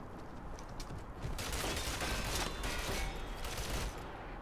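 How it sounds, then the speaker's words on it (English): Rapid bursts of gunfire in the online shooter Ghost Recon Online, a dense, steady volley that swells louder midway and carries on without pause, no voices over it. "Where are those shots coming from?"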